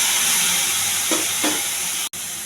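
Chickpeas and green chillies frying in a pan give a loud, steady close sizzle with a couple of soft stirring scrapes and a brief cut near the end.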